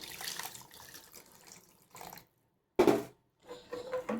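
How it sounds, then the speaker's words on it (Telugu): Tamarind juice pours into a pan of potato curry in short liquid bursts, a steady stream splashing then stopping with brief silent gaps between. "ఇప్పుడు చింతపండు పులుసు వేస్తున్నాను."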